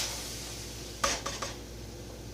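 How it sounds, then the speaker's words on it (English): Drained macaroni tipped back into a pan, a few quick metallic knocks and scrapes in close succession over a low, quiet kitchen background, no voices. "You put the pasta back into the pan."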